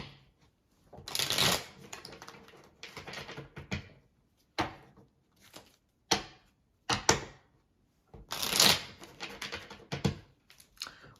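Tarot cards being shuffled by hand at close range, bursts of riffling and flapping card noise separated by short quiet gaps and a few sharp taps, with no talking.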